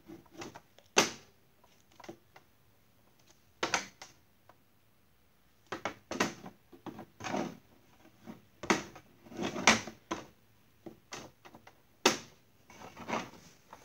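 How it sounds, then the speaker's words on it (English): A house door being closed and locked, heard as a series of sharp clicks, clunks and rattles of a latch and key or bolt, in irregular bursts with short pauses between them, close by and fairly quiet, with no speech. "Gotta lock, lock the door."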